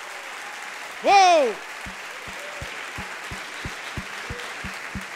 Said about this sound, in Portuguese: aplauda bem forte a esse Deus